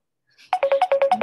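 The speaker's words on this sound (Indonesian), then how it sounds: "Ada telepon masuk, Pak." A phone ringtone for an incoming call chirps in quick, loud, evenly spaced bursts, about eight short pulses after a faint lead-in, close and alone.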